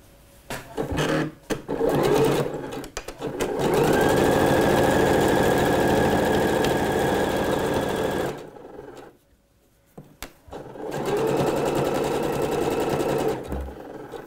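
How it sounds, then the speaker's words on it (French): A sewing machine stitching a seam 1 cm from the fabric edge for a dress, loud steady motor whir in long runs with short starts and stops, a brief silent pause, then another sustained burst of stitching. "on va venir ici piquer à 1 cm du bord"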